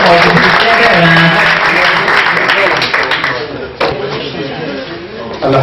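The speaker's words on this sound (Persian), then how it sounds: "یه تشویق برای دوستان انجام بدید." An audience at a three-year anniversary celebration breaks into loud, sustained applause. Clapping fills the room throughout, with voices audible underneath.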